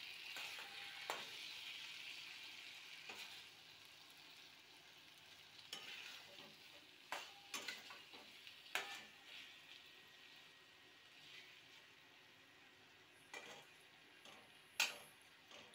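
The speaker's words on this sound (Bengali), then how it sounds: "এভাবে উপর নিচ সুন্দর করে কষিয়ে নিতে হবে।" Potatoes for an old-style home curry are stir-fried in a pan with a faint, steady sizzle. Scattered spatula scrapes and clinks against the pan sound quietly and close, and nobody talks.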